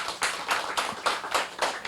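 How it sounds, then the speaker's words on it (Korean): A small audience claps for two speakers at an indoor talk: a few pairs of hands produce a quick, sparse, even patter of separate claps, close and brief with no voices. "두 분 강사님께 큰 박수 부탁드리겠습니다."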